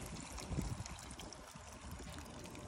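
Water trickles and pours into a pot of Cambodian rice porridge, a soft, quiet liquid splash and dribble running steadily from start to finish.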